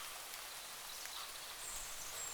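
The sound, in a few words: raindrops falling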